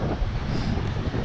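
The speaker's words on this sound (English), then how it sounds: "I know it's super windy." Strong wind buffeting the microphone at a Barbados beach, a loud constant low rumbling roar with no speech.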